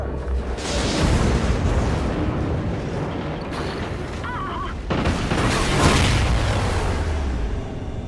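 Explosions in the Call of Duty Ghosts campaign on Wii U, two heavy booming blasts with rumbling debris, the second striking near five seconds, amid alarm tones and game sound effects.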